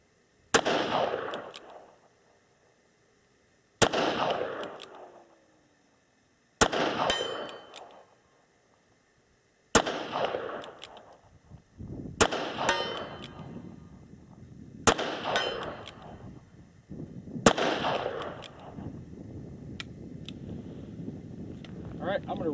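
Seven loud .357 Magnum shots from a Smith and Wesson 686 Plus revolver ring out outdoors, spaced a few seconds apart with long reverberant decays and wind noise, the later ones coming quicker over a noisier background.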